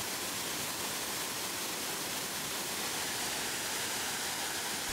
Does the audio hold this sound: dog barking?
no